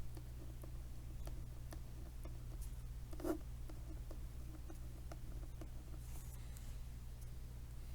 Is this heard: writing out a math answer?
yes